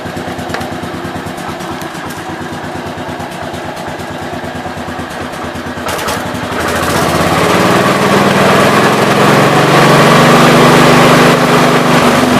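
A 1967 motorcycle engine idles with a steady close putter, then revs up partway through into a louder, sustained higher-pitched roar, with no voices.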